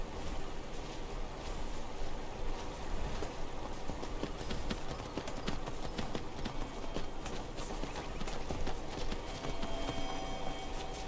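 Steady clip-clop of horse hooves trotting at an even pace in a video game, close and continuous, with a soft rushing background.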